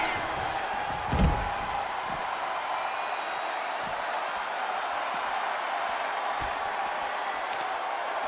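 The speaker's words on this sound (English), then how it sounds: "The roar of this crowd has been building, and they are at a fever pitch right now" In a WWE wrestling video game, an arena crowd roars as a constant broad wash of noise beneath a commentator's talk, with one sharp thud early on.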